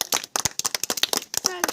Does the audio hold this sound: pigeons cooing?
no